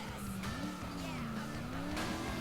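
Cars race in Burnout Paradise, with a steady engine drone, rising and falling revs and tire squeal or skidding, all fairly loud and continuous.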